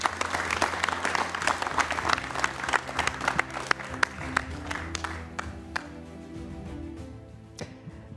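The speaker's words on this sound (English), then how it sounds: "That's your applause." A large audience applauds at a live technology presentation, dense steady clapping that fills the room and gradually thins toward the end.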